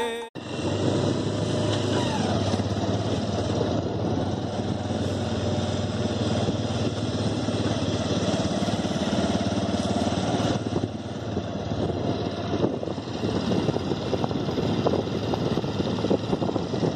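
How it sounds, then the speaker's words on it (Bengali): A Bajaj Avenger motorcycle ridden with a pillion passenger on a village road in the early morning, its steady engine drone and road rumble continuous and close throughout, with no talk. "আমি এখন মধুমিতার পিলিয়ন রাইডার হিসেবে রাইড করছি।"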